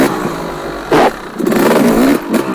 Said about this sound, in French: vous mettez un trop gros coup d'embrayage, la moto va se lever